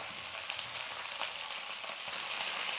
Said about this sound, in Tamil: எவ்வளோ கீரை இருந்தது எல்லாம் போட்டு வதங்கிடுச்சுப்பா